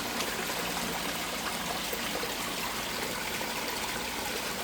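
Creek water streams steadily over rocks and a log, a continuous close, moderately loud rushing and trickling wash with no talk.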